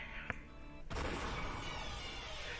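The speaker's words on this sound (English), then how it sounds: "when the number 3 was yelled, the sound of the gunfire rang out once" A single sharp video game gunshot from a PC visual novel cracks out, followed by a loud burst of rumbling noise that lingers and slowly fades.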